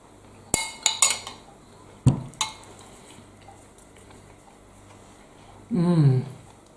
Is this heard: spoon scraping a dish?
yes